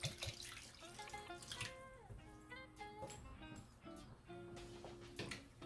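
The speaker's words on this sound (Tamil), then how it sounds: "இப்ப நான் தண்ணி எடுத்து வச்சு தண்ணி ஆட் பண்ணிக்கிறேன்" Water is poured into a pot of Tamil-style chicken salna, a trickling splash heard under music with melodic tones, fairly faint overall.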